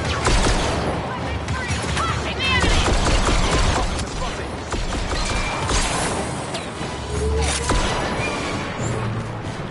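Rapid video game gunfire rattles in dense, overlapping bursts during a firefight in a plaza, mixed with crashes, impacts and mechanical clatter, loud and sustained throughout with brief lulls.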